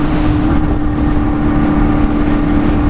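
A Honda Hornet 250 motorcycle with a twin-outlet exhaust roars steadily at full throttle while riding at roughly 50–60 km/h, a loud, constant buzzing engine drone with wind rush and no voices.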